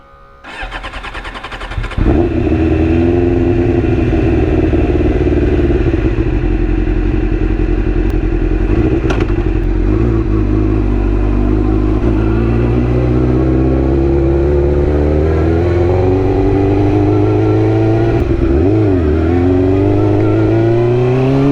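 A Suzuki GSXR750 motorcycle engine cranks briefly, catches and starts, then runs loud and close at a steady idle with slight fluctuations.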